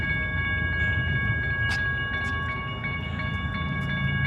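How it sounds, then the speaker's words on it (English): Train rolling through the middle of Flagstaff, Arizona, near Route 66, a steady loud rumble with a sustained horn-like tone and faint clicking wheels, no speech. "Another train."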